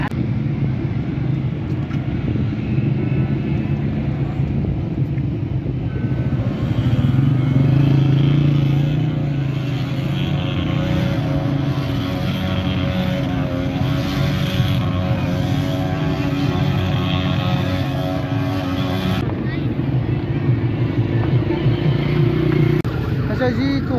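Cars and motorbikes driven around at an outdoor Eid gathering in Bannu, a steady blend of engine drone and revving under crowd chatter and voices, continuous throughout with a brief dip near the end.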